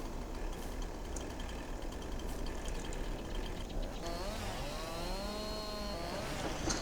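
A tractor engine in Farming Simulator 22 runs in a steady, close diesel drone. Partway through, a whining tone rises and falls as the machine works at hauling felled trees.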